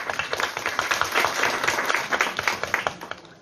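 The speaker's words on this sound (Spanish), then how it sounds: "para quien pido también un fuerte aplauso" Audience at a public event on preventing adolescent pregnancy applauds an introduced official, a dense patter of many hands clapping that holds steady for a few seconds and then starts to thin.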